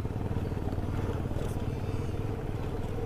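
A motorcycle labours up the long, high, snowy Khardung La pass in Ladakh after crossing wet streams, its engine a loud, close, steady low rumble that runs continuously without a break.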